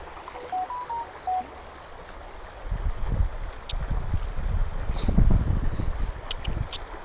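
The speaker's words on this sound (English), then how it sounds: "Not sure why my phone went off." A mobile phone chimes a quick run of short, rising notification tones early on, then goes quiet while a flowing river and wading splashes fill the rest, louder toward the end.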